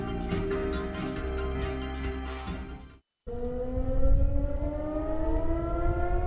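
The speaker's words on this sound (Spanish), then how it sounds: "Las sirenas antiaéreas son parte de la vida cotidiana" Air raid sirens wailing in a news report, loud rising and falling tones that cut out briefly and then resume with a long upward sweep, with no talk over them.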